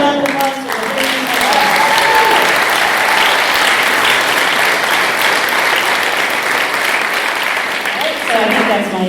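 Loud, steady applause from a crowd at a GaelForce 2019 gathering, continuous throughout, with a voice briefly audible at the start and end.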